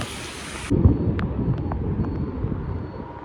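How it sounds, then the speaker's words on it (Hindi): A steady, dense roar of heavy rain in Jhansi, India, broadband and constant, with a deeper rumbling undertone throughout. "कितनी तेज बारिश हो रही है।"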